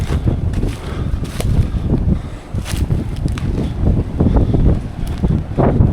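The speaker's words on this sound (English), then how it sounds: "A little bit windy." Wind blows steadily across the microphone on a rocky, muddy path in Tonga, a loud low rumble with gusty buffeting and faint rustles throughout.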